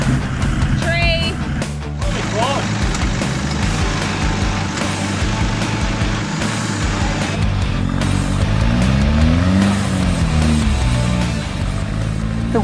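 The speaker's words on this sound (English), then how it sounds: "wheels just kept spinning and spinning" A 4WD stuck on Frenchman's Track in Cape York, its wheels spinning and engine revving in long continuous strains, loud and close, with a voice talking over it.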